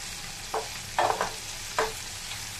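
Garlic and ginger fry in a pan for a Bengali veg jhalfrezi, giving a soft steady sizzle with a few brief stirring scrapes and clatters spread across the clip and no voices.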